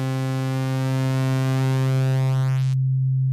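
A steady sine tone from a Eurorack modular synthesizer oscillator holds alone at a constant pitch, with a rising sweep of harmonics before the upper content cuts off and leaves the pure low tone ringing.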